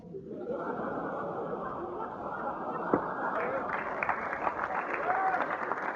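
A stand-up comedy crowd applauds steadily and loudly, with chuckles and laughter mixed into the sustained clapping, while chatter rises near the end.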